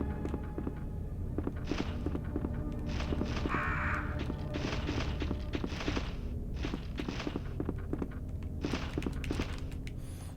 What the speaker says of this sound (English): The birds are like the easiest one to evade most of the time.